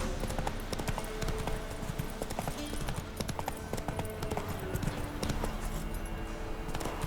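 Horse galloping in The Witcher 3, its hooves clip-clopping in a steady, loud, driving rhythm that runs continuously throughout.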